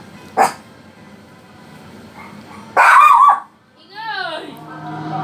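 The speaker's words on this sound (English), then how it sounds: "Quiet the dog." A dog barks indoors with a sharp single yap, then a louder extended burst of barking, followed by whining yelps as people talk nearby.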